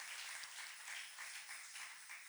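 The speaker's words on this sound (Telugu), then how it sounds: "చప్పట్లు కొడుతూ యేసయ్య నామమును మహిమ పరుద్దాం." Congregation clapping hands together during a Sunday church worship service, a steady dense wash of many palms with rhythmic swells, sustained and moderately distant, no voices.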